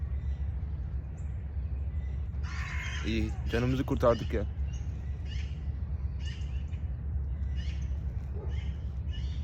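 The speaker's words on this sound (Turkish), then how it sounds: "Kargası da burada." A crow caws several times nearby in a short burst, over a low steady rumble, with someone talking briefly.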